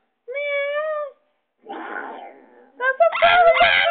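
A parrot imitates a cat, giving a clear drawn-out meow, then a rougher mewing call and a louder cluster of squawky meows at close range in a quiet room.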